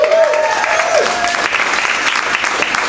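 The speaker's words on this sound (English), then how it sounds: "when I asked that question after doing jokes and you guys applaud so happily" An audience at a comedy show breaks into loud, steady applause, a dense wash of clapping hands lasting the whole moment, with a faint voice briefly audible at the start.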